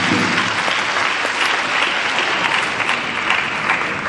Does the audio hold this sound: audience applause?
yes